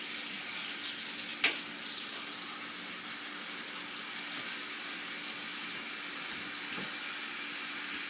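Steaks sear in a hot pan with a steady, even hiss close by. There is one sharp click early on and a few faint knocks, with no talk.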